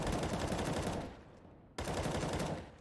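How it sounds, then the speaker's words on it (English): Sustained automatic rifle spray fires in CS:GO, shooting through smoke, a loud dense burst that cuts off briefly near the middle and then resumes at full strength. "SVT sprays him through the smoke, gets that headshot"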